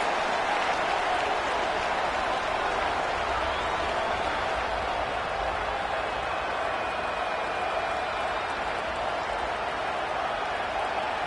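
A stadium crowd in a college football video game roars as one steady, dense wash of cheering and applause, unbroken and moderately loud for the whole stretch.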